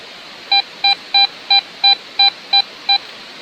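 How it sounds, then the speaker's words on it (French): Eight short, evenly spaced electronic beeps of equal loudness from a metal detector signalling a find while digging with a shovel, each tone crisp and close, with no talking. "Et le détecteur a sonné."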